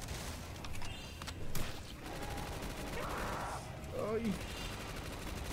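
Rapid gunfire rattles through a Black Ops 3 Zombies match on a Spyro-themed custom map, with bursts of shots over busy game noise and a player's voice talking.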